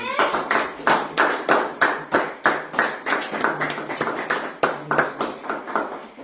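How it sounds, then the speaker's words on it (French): A congregation in a church in Stockholm claps in a steady, rhythmic beat, many hands striking together in evenly spaced bursts at a moderate level, with no voices over it. "nous acclamons le Seigneur"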